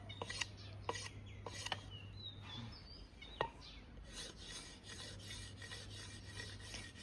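A knife rasps steadily along bamboo, splitting it into thin tying strips, a near, continuous scraping with sharper strokes, while faint birds chirp outdoors in the background.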